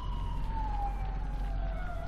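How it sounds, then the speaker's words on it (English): An emergency vehicle siren wails steadily in a slow falling sweep, loud and continuous over a low rumble, with no voices. "there's been a lot of sirens this morning."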